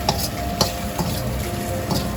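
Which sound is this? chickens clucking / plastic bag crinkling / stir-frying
stir-frying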